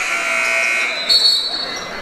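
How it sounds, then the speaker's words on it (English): A scorer's table buzzer goes off inadvertently during a high school boys basketball game, a steady tone sounding under gym crowd noise. "an inadvertent buzzer comes in from the scores table"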